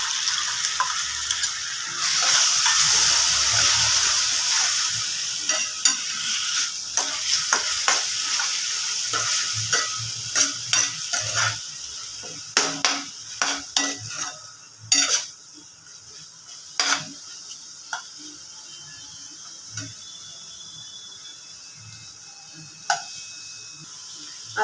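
Ginger, garlic and green chilli paste frying in a pan with browned onion for cashew paneer masala, a steady sizzle at first, then broken by repeated scraping and clinking stirs of a spoon against the pan.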